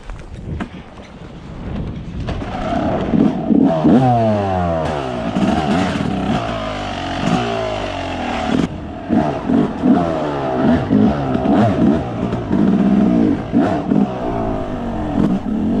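Motorcycle being bump-started in first gear on a hill in the Tasmanian Alps: after about two seconds the engine catches and revs unevenly up and down, loud and close, with wind buffeting the microphone.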